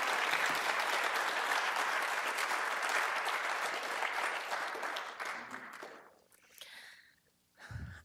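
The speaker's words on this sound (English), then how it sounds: "Let's please give them one more round of applause because they're wonderful." An audience applauds a graduating small-business cohort with steady, full clapping that thins out after about five seconds, leaving scattered sounds and a brief voice near the end.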